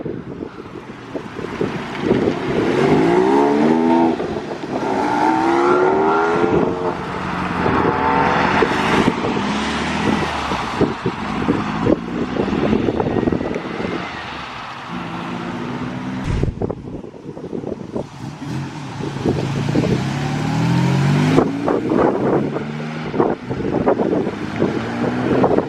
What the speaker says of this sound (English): We have the Porsche 911.